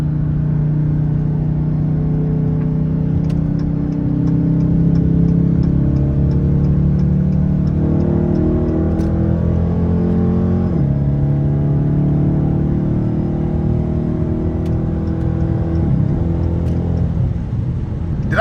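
A 2022 Dodge Challenger R/T Plus cruising a freeway at night, its engine drone steady and loud with gear-change shifts in pitch, plus occasional faint ticking clicks inside the cabin.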